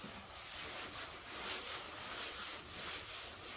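Steady rhythmic scratchy rubbing of sandpaper on a block sanding a panel in a crosshatch pattern, strokes repeating back and forth about twice per second, close and fairly loud, no voices.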